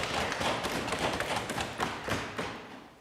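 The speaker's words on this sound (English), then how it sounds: "or in your case, a thump on the desk." Many hands thump on desks in a loose, continuous roll of dull knocks, like a room applauding at a debate competition, with occasional louder thuds.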